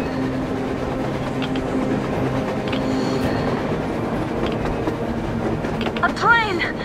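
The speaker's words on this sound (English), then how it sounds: "A train! A damn train on the surface!" Surface train passing in a video game set in Moscow, a steady broad rumble of rolling carriages with faint clattering and a brief rising whine near the end, continuous and fairly close.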